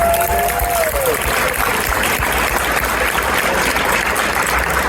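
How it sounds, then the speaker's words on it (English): Loud, continuous applause fills a room at an interfaith iftar as the crowd honors host Bushra Amiwala; a brief voice sounds near the start over the clapping. "Can we give a wonderful round of applause to our host, Bushra Amiwala, for being here."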